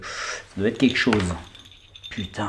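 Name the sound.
small bells jangling, used as an alarm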